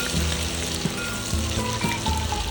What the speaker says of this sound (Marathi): आले आणि लसूण थोडे गोल्डन ब्राऊन होईपर्यंत चांगले परतून घ्यायचे आहे